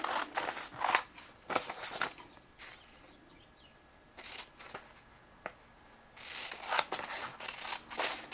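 Scissors snip through paper during crafting, with several sharp crisp cuts in irregular bursts separated by quieter pauses, close up and alone without talking.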